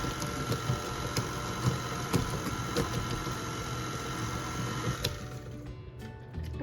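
Banana nut muffin batter being stirred with roughly chopped pecans, giving rhythmic scraping and crunchy knocks of nut pieces against the bowl, repeated strokes that stop near the end.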